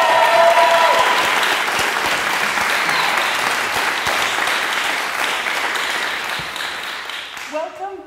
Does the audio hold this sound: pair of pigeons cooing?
no